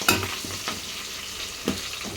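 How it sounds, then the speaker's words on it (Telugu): Tempering sizzling in hot oil, a continuous close crackle and hiss with a sharp burst at the start and a couple of stirring scrapes, no speech heard. "తాలింపు పెట్టేటప్పుడు ఇలా సౌండ్ వస్తే ఒక పక్క భయం వేస్తుంది"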